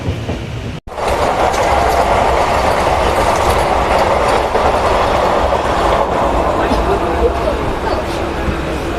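Passenger train running on rails from Kolkata to Ghatshila, a continuous loud rumble with clickety-clack of the wheels heard from inside the carriage, voices faintly mixed in.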